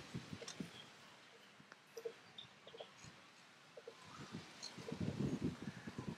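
Wind stirs the leaves of a tree on a windy Sunday outdoors, a soft continuous rustle with faint bird chirps and occasional gusts, quiet and near.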